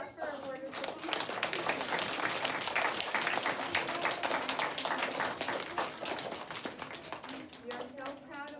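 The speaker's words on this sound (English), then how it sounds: "Let's do another big round of applause for our board recipients." A school awards assembly audience claps for lower-grade award recipients, a dense, steady round of applause filling the room for several seconds, with a voice faintly audible at the edges.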